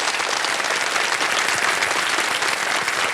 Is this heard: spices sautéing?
no